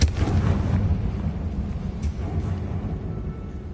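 A Confringo blasting spell goes off in Hogwarts Legacy, a deep booming burst up front followed by a rolling low rumble that lingers for several seconds.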